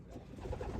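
A pure white Rocky Ridge racing pigeon gives a low, soft cooing close by in a loft, a short murmuring call with no talking.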